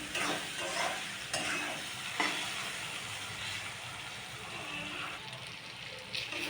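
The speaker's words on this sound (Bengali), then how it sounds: "তারপর ভালো করে টমেটো আর পেঁয়াজটাকে কষিয়ে নিতে হবে।" Salted tomatoes and onions fry in a pan with a steady close sizzle, broken by scraping clicks as they are stirred.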